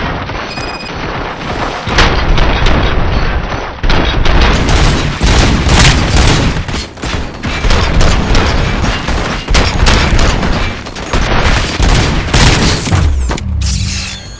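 Sustained gunfire and explosions from the video game RoboCop: Rogue City, dense loud bursts and booms rolling continuously for the whole stretch with no voices over them.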